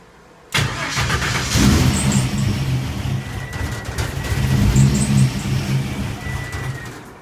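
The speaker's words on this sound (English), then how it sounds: "I want to see how well it's going to cold start for me." A car engine being cold-started in roughly 130-degree heat: a loud, steady starter crank grinds for several seconds with uneven chugging, never quite catching into a clean idle, with no talk over it.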